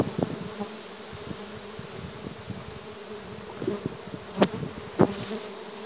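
Bees buzzing outdoors in a forest setting, a steady insect drone close by with a few louder passes flying near, along with light rustling and occasional knocks.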